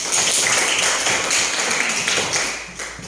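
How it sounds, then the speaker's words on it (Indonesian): Classroom applause during a lesson on the growth cycles of humans, animals and plants, a dense steady patter of many hands clapping together, fairly loud and continuous, easing off slightly toward the end. "Tepuk tangan."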